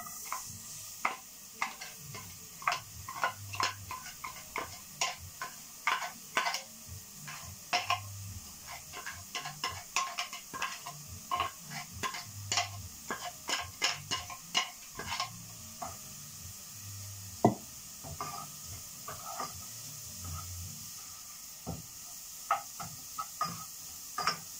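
Chopped broccoli, cauliflower and carrots hitting a hot pan, giving a steady low sizzle broken by frequent sharp scraping and clattering stirs, close and with no talking.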